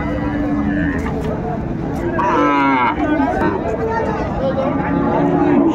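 A young Sahiwal bull calf lets out a couple of moos amid the chatter and murmur of a busy cattle market crowd in Dinajpur, with people talking nearby.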